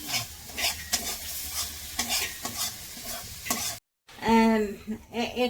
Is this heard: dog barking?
no